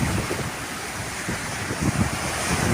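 Calm sea waves at the shore in the evening roll in as a steady broad wash, with soft swells and wind buffeting the microphone throughout.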